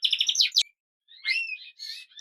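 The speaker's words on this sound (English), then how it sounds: "Just a quick look at the 3-part dark cock bird." Border canary birds, including a three-part dark cock bird on its perch, chirp and twitter up close in quick bright bursts, a pause of about half a second, then more warbling phrases.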